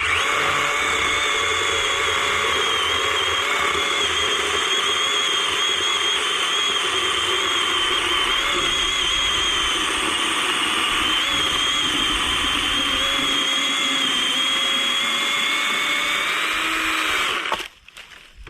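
A battery-powered electric chainsaw runs with a loud, steady high whine that holds for a long stretch and then cuts off abruptly near the end.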